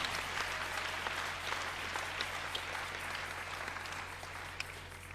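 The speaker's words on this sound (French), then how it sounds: "Applaudissons pour le Seigneur Jésus-Christ." A church congregation claps together in a steady, fairly distant wash of applause, continuous and even, with a low hum underneath.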